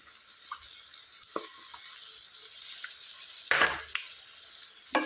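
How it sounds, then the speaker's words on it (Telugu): Boti curry cooking Telangana style sizzles and crackles in a hot pan, a steady close hiss broken by sharp pops and a couple of louder spatters, with no voices. "ఈ విధంగా చిటపటమయ్యేటట్టు ఫ్రై చేసుకోవాలి"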